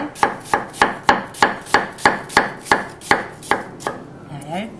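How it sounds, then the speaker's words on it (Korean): Knife slicing peeled apple thinly on a cutting board, about a dozen crisp evenly spaced chops in steady rhythm, close and clear, with no talking. "껍질을 벗겨 주신 다음에 쪽 썰어주세요"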